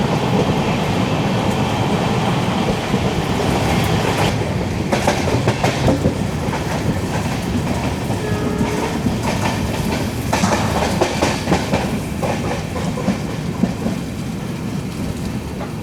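The Poorna Express passenger train runs on rails near Karwar station, heard from inside an AC 3-tier coach, with a steady loud rumble and repeated rhythmic clickety-clack of wheels over rail joints.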